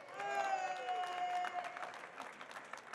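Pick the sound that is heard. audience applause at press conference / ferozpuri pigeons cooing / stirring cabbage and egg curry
audience applause at press conference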